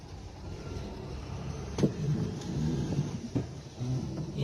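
A manual car is cranked with a gear engaged, giving a close, rough engine rumble with a few jolting clunks and knocks, no voices over it.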